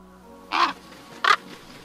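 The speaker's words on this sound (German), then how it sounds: "Hoch über ihm kreist am Himmel ein Rabe" Two harsh, hoarse caws from a raven, evenly spaced about a second apart, fairly close and clear over a faint steady background.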